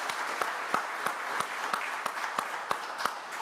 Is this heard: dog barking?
no